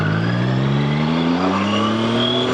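Triumph Tiger 660 Sport motorcycle ridden on a road, its engine droning loud and steady as the pitch climbs smoothly under acceleration, with wind noise throughout.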